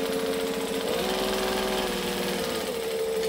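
A sewing machine stitching a seam on a pocket, a steady, fast, loud mechanical whir with rapid needle chatter running throughout, close and without talking.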